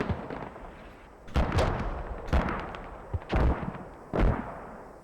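Mortar fire in a competitive video game match, several heavy booming thuds spaced about a second apart over a low background rumble, with lighter pops between them.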